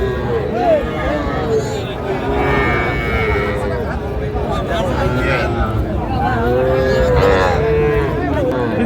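Cattle at a busy livestock market, several loud close moos rising and falling over a murmur of crowd chatter and bargaining voices.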